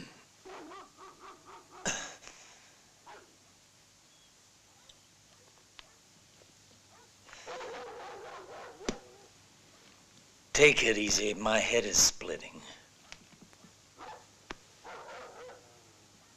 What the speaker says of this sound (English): What's gotten to those damn dogs?